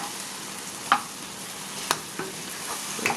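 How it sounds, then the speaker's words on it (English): Eggs hit stir-fried Vietnamese bitter melon in a hot pan, a steady close sizzle with a few sharp clicks and scrapes of a utensil against the pan. "I'm going to now add the egg."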